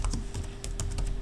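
Quick, irregular keystrokes on a computer keyboard, close and crisp, a short run of clicks over a faint steady hum.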